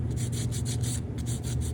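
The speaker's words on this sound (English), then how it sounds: "take a piece of 220 grit sandpaper and just give him a light dusting around his face in the areas I've finished up" Fine 220-grit sandpaper is rubbed lightly over a soft basswood carving in quick, even back-and-forth strokes, a close, steady raspy swish with no voices.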